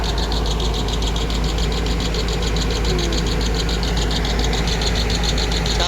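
A heavy excavator engine runs steadily nearby, a deep rumbling drone with a rapid mechanical knock pulsing through it and no voices.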